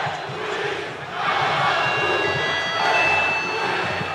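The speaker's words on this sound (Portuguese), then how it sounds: "o árbitro recebe a homenagem da torcida" A football stadium crowd at a Guarani versus Ituano match chants and jeers at the referee after a yellow card. The roar is loud and sustained, with two swelling surges, and whistles and yells sit on top of it.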